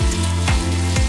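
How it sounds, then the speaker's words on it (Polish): Onion fries in heated olive oil in a pot, giving a loud, continuous sizzle close by, with a faint repeating tonal sweep running under it. "Po rozgrzaniu oliwy w garnku wrzucamy i smażymy cebulę."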